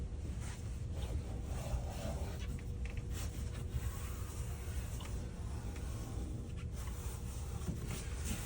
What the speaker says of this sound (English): Last thing you're going to do is just simply use your finger to seal the edge.